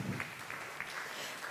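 Brief burst of applause from an audience, a steady wash of clapping.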